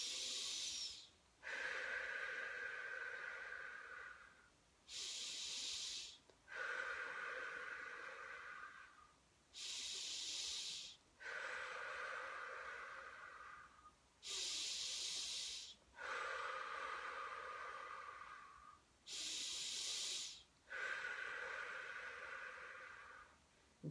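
Deep, rhythmic breaths in a guided breathing exercise, long hissing inhales and exhales in a steady cycle of about six rounds, close and clear with brief pauses between them and no talk.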